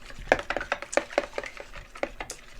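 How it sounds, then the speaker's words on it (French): Four eggs beaten in a bowl with a spoon, a quick, uneven run of close, sharp clinks and taps against the bowl, with no talking. "une fois qu'on a cassé les 4 œufs, on va venir les battre un petit peu"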